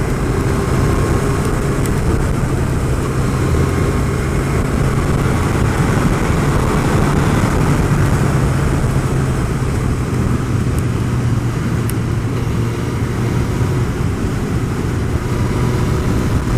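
Suzuki GSX-R1000 motorcycle at speed through corners, its engine a steady, loud drone with continuous wind rush and no pauses.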